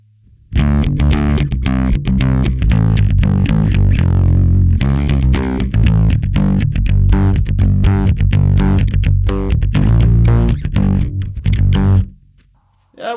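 An electric bass runs through a Behringer BDi21 preamp with distortion dialed in, a loud, gritty, continuous played riff of repeated notes that stops abruptly near the end.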